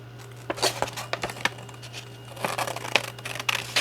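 Scissors snip along the edges of thick paper card in a string of short, crisp, close cuts, some in quick clusters and some with brief pauses.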